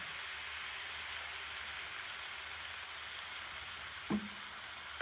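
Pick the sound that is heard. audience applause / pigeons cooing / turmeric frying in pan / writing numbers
turmeric frying in pan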